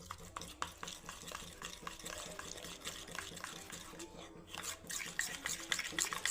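Mathri dough made from wheat flour with methi is beaten with ghee in one direction in a bowl, producing close, rhythmic wet slapping and squelching strokes that repeat steadily at a quiet level.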